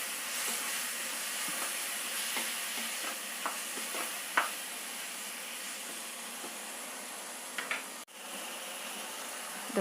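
Tomatoes being stirred and sautéed in a pan give a faint steady sizzle, with soft scraping clicks from stirring scattered throughout and a brief louder clatter near the end.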